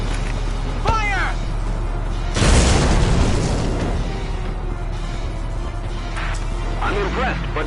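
A cannon shot and its explosion in Valkyria Chronicles land as one loud, heavy boom with a rumbling tail, rising above a constant game backdrop of engine hum and short whistling effects.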